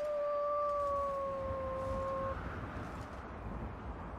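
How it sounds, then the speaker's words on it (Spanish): Wolves in the survival video game The Long Dark, a long, steady, tonal howl heard for about two seconds before it cuts off, leaving quiet wind-like ambience, no talking. "Me enfrento a los lobos, muero"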